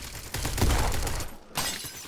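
Grenade blast in the Roblox shooter Bad Business, a quick crackling burst of explosive and gunfire noise heard faintly in a game mix, with a short dip before another burst.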